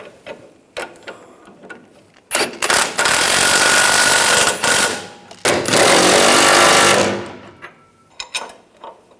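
A power tool runs in two loud, sustained bursts while tightening the rear upper control arm bolts on a 2011-2018 Ram 1500, with quieter clicks and tool handling before, between and after.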